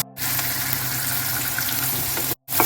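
Onion and tomato with a little sugar sizzle in a pan alongside meat for biryani, a loud, steady frying hiss broken by two brief cuts to silence.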